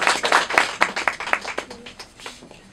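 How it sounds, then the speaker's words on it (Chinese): An audience claps in thanks after a final Latin dance performance, with dense clapping that is loud at first and then thins and fades over a few seconds. "所以呢我们再次给他热烈的掌声表示感谢"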